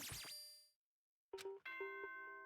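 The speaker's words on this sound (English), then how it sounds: "Oh, ding dong time!" Ding-dong chime in the Danganronpa video game: a bright ringing tone fades into silence, then a clear electronic chime sequence of several notes follows, loud and alone.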